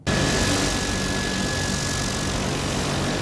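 A Diamond serial hybrid aircraft engine, paired with a generator to make electric power, runs at a steady, loud, continuous drone that starts abruptly and holds an even hum with a faint whine, close up and without voices.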